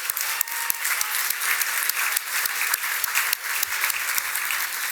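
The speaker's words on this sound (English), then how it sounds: "Please give a big round of applause to our Board of Trustees that are here." An audience at a formal annual charity dinner in New York City applauds, with dense, steady clapping filling the room and no talk over it.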